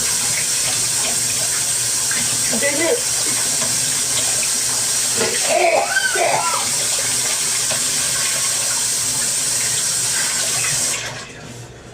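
Water runs steadily from a tap for about eleven seconds as a continuous loud hiss, then cuts off abruptly; a voice briefly speaks partway through.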